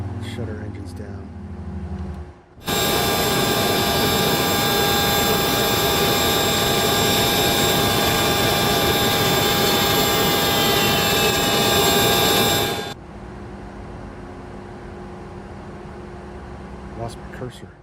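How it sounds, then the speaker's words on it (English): Jet engines of a Citation Sovereign+ in the flight simulator MSFS 2024 roar loudly and steadily, then cut off abruptly, leaving a quieter residual hum; a voice is faintly heard before and after the loud stretch. "shut our engines down"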